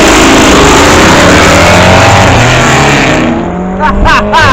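A loud car engine roars and revs hard nearby at a Cars and Coffee event, then eases off as a few excited voices call out at the end.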